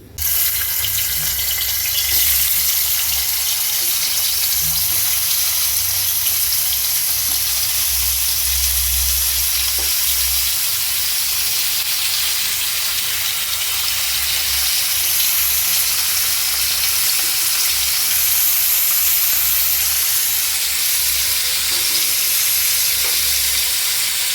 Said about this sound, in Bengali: এখন এটা আগে ভাজা বসিয়ে দিই